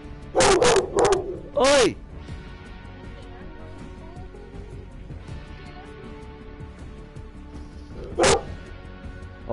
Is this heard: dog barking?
yes